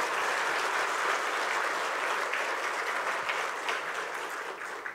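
An audience claps steadily and fairly loudly at an eye hospital's 39th anniversary celebration, a dense, continuous round of applause that tapers slightly toward the end.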